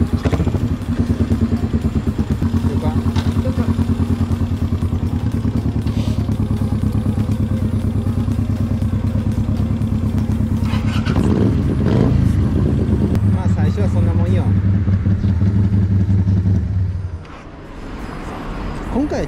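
Yamaha SR400 single-cylinder motorcycle, kick-started and idling loudly close by with steady low chugging, a brief revving surge midway, then the engine dropping off near the end; people talk faintly over it.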